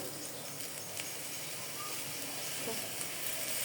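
Ginger paste hits frying onions in a pan for roast pulao, and a steady, even sizzle of frying holds throughout, fairly soft and continuous with faint stirring.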